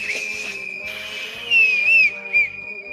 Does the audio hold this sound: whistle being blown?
yes